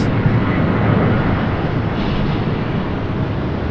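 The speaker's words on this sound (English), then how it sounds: "that United that's been sitting out there for a couple hours, or for an hour, is finally getting to move on" A United airliner taxis on the airfield at Raleigh-Durham airport, a steady broadband jet engine roar heard from a distance and holding fairly level throughout.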